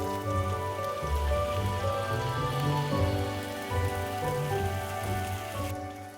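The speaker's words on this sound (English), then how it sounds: "Let them fry for 3 to 5 minutes." Hearts of palm frying in hot oil in a pan, a dense, even crackling sizzle that holds steady throughout over a faint tonal hum.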